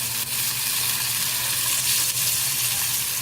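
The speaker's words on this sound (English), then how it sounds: "Just drop in all of them into the pan and saute for a few seconds" Cajun-seasoned potatoes sizzle steadily in a hot pan as they are sautéed, a loud continuous frying hiss with no pauses.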